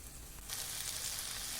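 Soft sizzling of soaked rice sautéing in a pan for veg pulao, swelling louder partway through, a steady hiss of frying with no talking.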